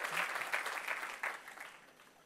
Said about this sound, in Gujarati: હું તાળીઓ સાંભળીને હું ખુશ થાઉં છું